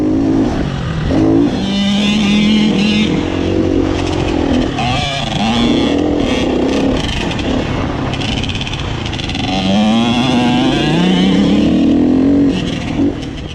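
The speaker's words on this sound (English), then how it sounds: "Here's Luka on his YZ85 on the main track at Mt Kembla." A Yamaha YZ85 dirt bike ridden on the main motocross track at Mt Kembla: a loud, close two-stroke engine revving and dropping through the gears, its whine repeatedly rising and falling.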